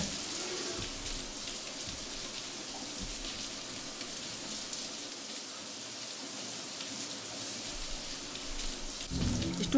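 Shower running in an apartment in Cyberpunk 2077: a steady, hissing spray of water, continuous and moderately quiet, with a slight thump near the end.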